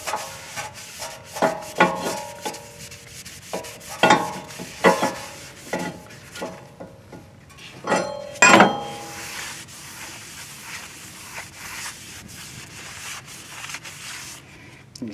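A shop rag rubbing and wiping a Mazda 3 rear brake part, with irregular scrubbing strokes and a few light knocks, close by and without talk.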